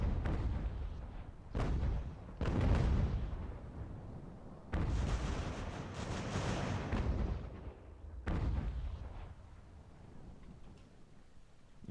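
Artillery barrages in the strategy game Ultimate General: American Revolution, fired by fatigued gun crews: dull booming blasts with long rumbling tails, several heavy thumps spread across a continuous roar of distant battle.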